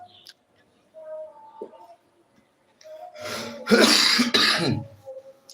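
A single harsh cough, loud and close, follows some faint throat noises and quiet pauses.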